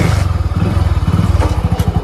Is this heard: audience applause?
no